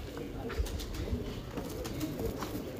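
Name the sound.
Multan champion pigeons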